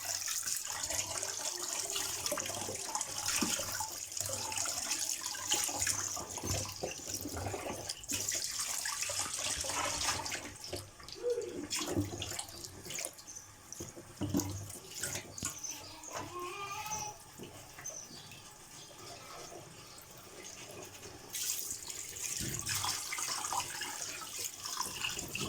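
Tap water runs steadily into a kitchen sink while fish is washed under it, with close splashing and occasional clatter throughout.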